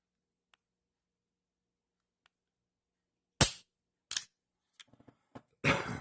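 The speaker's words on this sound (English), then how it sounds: "You can hear the metal on metal" Polished metal components of a G2s pistol trigger click and snap, giving one sharp, loud metallic snap followed by a few lighter clicks spaced apart against near silence.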